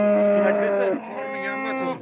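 A cow at the Vobkent cattle market in Bukhara, pregnant and after her third calving, lets out one long, loud, close moo that dips in pitch and carries on in a lower drawn-out tone.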